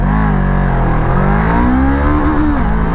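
A loud, close engine of a 2021 Voge 500 DS motorcycle screams at high revs, pitch climbing steadily and holding at the rev limiter in a harsh continuous whine.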